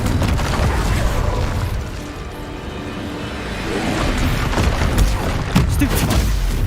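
An Incendio fire spell is cast in the Hogwarts Legacy video game amid a loud, continuous barrage of booms and crackling impacts, dipping briefly midway before surging again with sharp hits.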